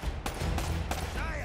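Gunfire from Uncharted: Drake's Fortune in a surrounded firefight, with several sharp, loud shots at a steady pace over game ambience and low rumble.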